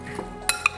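Utensils clink against a bowl while tossing a cucumber wakame salad, two short bright knocks close by and no talk.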